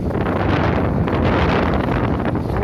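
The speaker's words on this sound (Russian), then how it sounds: "Ой, какой ветер." Loud, roaring gusts of strong wind during heavy snowfall in Yakutsk buffet the microphone continuously, a dense rumbling rush with no voices.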